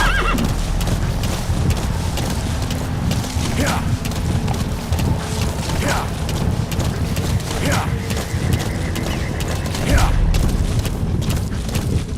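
Horse neighing and clip-clopping hooves in Metal Gear Solid V free roam, with several whinnies spaced a few seconds apart over a steady game soundscape of mechanical rumble and ambience.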